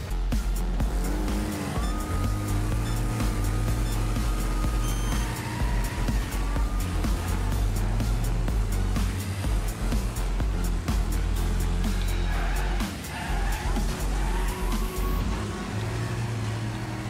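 Stock car engines drone steadily in a Wreckfest race, with shifting revs and intermittent tire skids over a constant loud roar.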